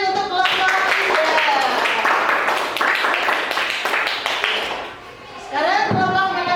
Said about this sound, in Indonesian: Yuk tepuk tangan untuk kelompok 3.